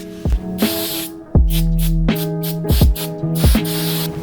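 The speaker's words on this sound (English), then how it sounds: "What I like to do is brake clean all the bolts and the nuts to make sure they're as clean as possible" Aerosol brake cleaner sprayed onto bolts and nuts during a Z33 axle conversion on an S-chassis car: several short, close hissing bursts, with tonal squeaks in between.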